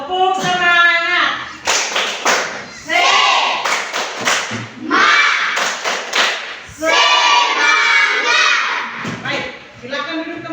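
A classroom of children performs the Tepuk Semangat clapping chant, with rhythmic clapping and thumps mixed among loud group singing and shouted lines.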